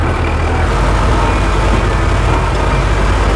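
A GAZ-69 off-roader's engine rumbles steadily at close range, a loud, low, continuous drone as the driver eases off the throttle and works the clutch, with no talk.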